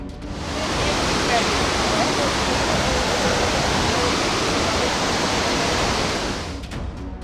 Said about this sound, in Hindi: ये देखिए रुद्रप्रयाग में मंदाकिनी नदी का रौद्र रूप।